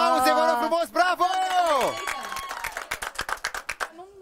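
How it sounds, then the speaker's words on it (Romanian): Wedding guests break into applause after a voice calls out, the crowd's clapping rising into a rapid, scattered patter that carries on to the end. "aplauze, vă rog frumos, bravo!"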